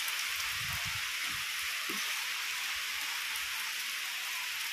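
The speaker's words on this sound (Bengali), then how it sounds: "বাইরে শুরু হয়ে গেছে ভালো বৃষ্টি, ভালোই ঝমঝমিয়ে বৃষ্টি পড়ছে" Heavy rain pours down outside, a constant loud hiss of falling water, with a few faint low thumps from indoors underneath.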